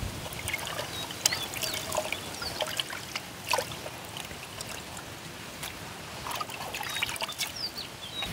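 Water trickling and splashing as freshly caught pond fish are washed, with intermittent pours, drips and small splashes at close range over a quiet outdoor background.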